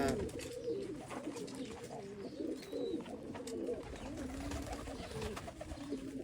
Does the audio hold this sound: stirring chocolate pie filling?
no